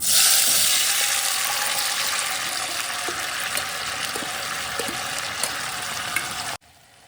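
A loud, steady sizzle of mustard seeds and chopped tomatoes frying in hot oil fills the clip, with a few soft clinks, before cutting off abruptly near the end.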